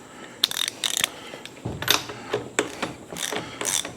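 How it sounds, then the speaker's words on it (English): A ratchet with a 3/4-inch breaker bar works loose the bolts on a motorcycle: bursts of sharp metallic clicking, close and loud, separated by brief pauses as the handle is swung back. "I'm gonna get on these bolts, just get them loose."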